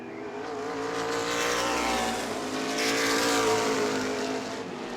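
Race cars at a New Smyrna summer event roar around the track, a loud continuous blend of engines and tire noise that swells and fades as cars pass.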